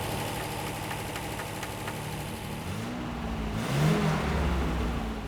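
A 1969 MGC Roadster engine runs steadily at idle, then rises in a brief rev and settles into a fuller, stronger running note, fairly close and without voices.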